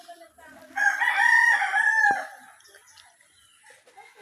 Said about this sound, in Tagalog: Ayan yung manok mo. Manok.